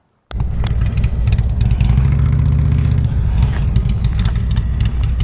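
A motorcycle engine warming up catches abruptly and settles into a loud, steady, close idle, with slight throttle swells that give it a throbbing, uneven edge and no talking.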